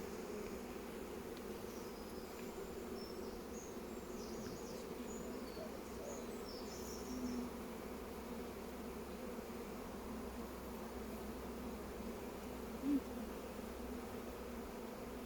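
Honey bees buzz around an open hive frame during a beekeeping lesson in Scotland, a steady low hum that continues for the whole stretch, with a faint bird call now and then in the background.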